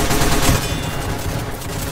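Rapid submachine gun fire in the Roblox game Randomizer, a dense and continuous burst of shots that stays loud from start to finish with no talk.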